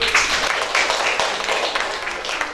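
Classmates applaud in a classroom, a steady wash of brisk hand claps from a group of students, fairly close and sustained throughout with no voices standing out.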